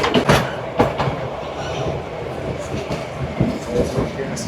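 Shargan 8 narrow-gauge railway train running through mountain terrain near Drvengrad, Serbia, with loud rumbling wheels and clattering rail joints, sharp metallic knocks standing out at irregular points over a continuous rolling roar.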